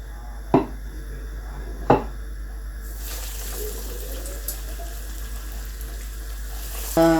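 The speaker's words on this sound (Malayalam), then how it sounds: "നമുക്കിനി ഇത് ഓരോന്നോരോന്നായി ചൂടായ എണ്ണയിലേക്ക് ഇട്ട് കൊടുക്കാം." Breadcrumb-coated tuna fish cutlets frying in hot sunflower oil, a steady crackling sizzle that rises in density partway through, with two sharp clinks early on and another clatter near the end.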